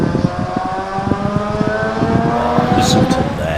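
A rotary-engined race car screams at high revs at Ringwood Park, with a buzzing, whining harmonic tone echoing through trees, loud and close, with a person talking over it.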